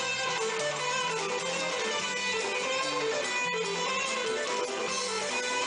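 Electric guitar playing a melodic lick, a fluid run of sustained, bright notes over a steady backing, clear and continuous with no talking.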